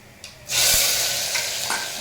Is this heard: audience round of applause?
no